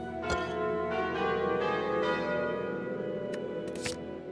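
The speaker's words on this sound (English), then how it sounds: "Ring the bell. Dong, the bell tolls." A bell tolls in the Slay the Spire video game, its long ringing tones sustained and fairly faint, with a few sharp clicks over the top.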